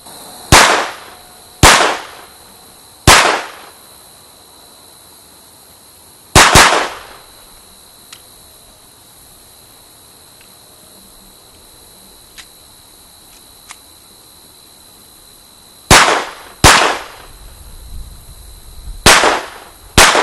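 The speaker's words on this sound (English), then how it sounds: "pivot and do 3 shots at the head at 12 yards with our Walther P22" Walther P22 pistol with a 3.42-inch barrel fired at a target 12 yards away: sharp, loud cracks, a few quick ones, then a pair, then a faster burst of four near the end, with quiet gaps between.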